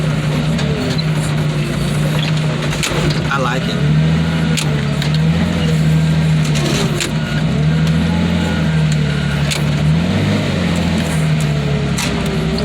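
A truck's engine drones close and loud with a turbo whine, holding a steady low rumble that rises and falls slightly while someone talks briefly over it.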